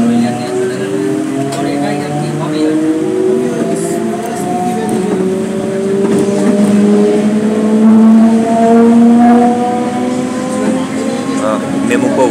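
An EMU local train on the Sealdah to Kalyani line pulls away outside Dum Dum Junction, its traction motors giving a steady rising whine over the rumble of the wheels. The sound is close and continuous, heard from on board.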